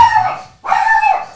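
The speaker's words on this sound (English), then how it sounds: "So the dogs are now flipping out. Must be the mailman." Dogs go wild indoors, letting out two long, loud, close howling barks one after the other, each held for about half a second.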